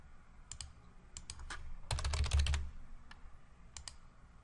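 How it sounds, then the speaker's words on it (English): Typing on a computer keyboard while entering a payment amount into billing software, heard as scattered soft clicks that build into a quick burst of keystrokes midway, then trail off to a few isolated taps. "type in the amount received and the payment method"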